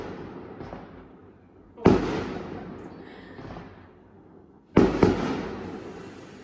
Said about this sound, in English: we've got some fireworks for Shavasana